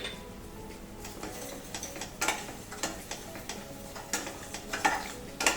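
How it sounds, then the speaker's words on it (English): Masala of coriander powder, turmeric and garam masala with tomato puree cooks in a pan for a chicken curry, the spoon stirring and scraping in repeated close taps over a steady soft sizzle. "Let us cook it along with the tomato puree for 1-2 minutes."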